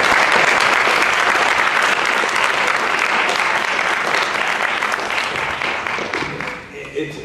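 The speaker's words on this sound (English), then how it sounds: "Can we first applaud Margot?" A panel audience at an Armenian studies event applauds loudly and steadily, a dense sustained wash of clapping that thins slightly toward the end.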